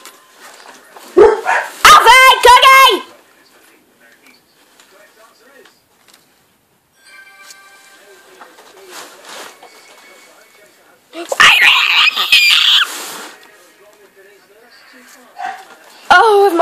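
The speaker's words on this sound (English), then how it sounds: "Oh, if my dog barks one more time," A pet dog barks in bursts inside a home, sharp close yips and bow-wows clustering near the start and again later, separated by quieter stretches with faint background noise and people talking.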